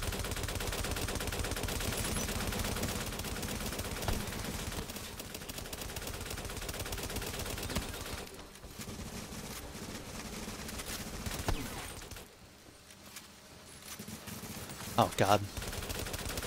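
Rapid gunfire from a shooter video game, bursts of automatic fire packed densely together and nearly continuous, with a brief lull near the end; someone speaks briefly over the shooting.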